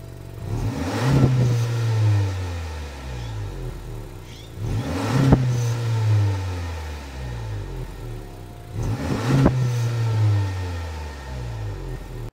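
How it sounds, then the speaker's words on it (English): A 2023 Honda Accord LX with a 1.5-litre turbocharged four-cylinder, in sport mode, revs three times in evenly spaced bursts. Each exhaust rise climbs and falls back to idle, loud and close, with no talking. "let's hear how quiet this exhaust is. I'll even put it into sport mode to see how loud it gets"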